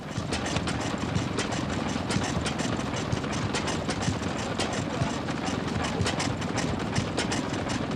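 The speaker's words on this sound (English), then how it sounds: "Many rare engines can be picked out amongst the exhibits, including this Lion engine." A 1923 Lion 5 horsepower stationary engine, a throttle-governed petrol-paraffin machine with magneto ignition, runs at an exhibition show with a steady rapid mechanical chugging and clatter, continuous and fairly close, with faint voices in the background.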